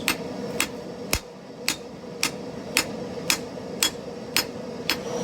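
Evenly spaced hammer blows ring out on a steel bar being forged into a Viking axe, about ten sharp metallic strikes at a steady rhythm, close and clear over a low workshop hum.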